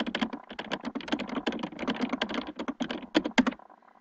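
Someone types a short note on a computer keyboard, a quick irregular run of close, crisp key clicks lasting a few seconds before stopping.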